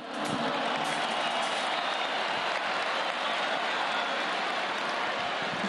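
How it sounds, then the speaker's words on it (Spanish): An audience bursts into dense, continuous applause at a club event, the clapping loud and sustained for several seconds with a faint crowd murmur beneath. "hay que aplaudir a nuestra área legal"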